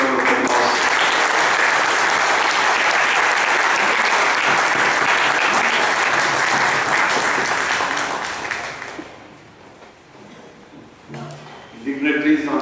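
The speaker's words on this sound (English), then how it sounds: "I want all of you to give him a big round of applause" Students and guests at a community event break into big, loud applause, dense clapping that holds for about nine seconds before fading away, followed by a voice starting to speak.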